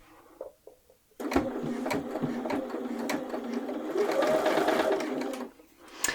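A sewing machine edge stitching bias binding onto the body of a dress runs in one sustained burst of rapid, even needle chatter. It starts after a few soft handling clicks and stops abruptly near the end.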